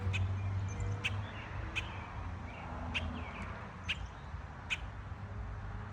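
A black bird calls in short, sharp cries outdoors, roughly once a second, moderately distant and fairly faint over low background noise.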